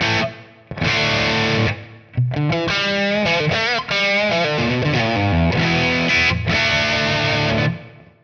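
Distorted electric guitar playing chords and a melodic run, drenched in a lingering reverb tail, loud and continuous with brief pauses.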